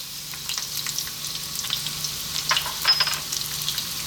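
Onion and garlic sizzle in hot oil over medium heat, a soft, continuous frying hiss scattered with small crackles and pops, with no one talking.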